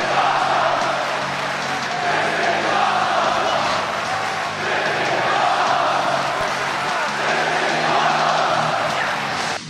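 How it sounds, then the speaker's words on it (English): A wrestling arena crowd at a WWE Universal Championship match between Finn Balor and Roman Reigns roars and cheers wildly in a loud, sustained, dense wall of noise. "The crowd goes wild."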